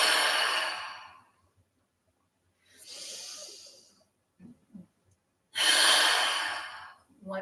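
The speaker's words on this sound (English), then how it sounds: "So exaggerated inhale, huge exhale." Exaggerated deep breaths during a seated yoga breathing exercise: three long, loud airy exhales through the mouth separated by quieter inhales and pauses, close to the microphone, with a couple of faint soft sounds between.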